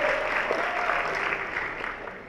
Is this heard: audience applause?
yes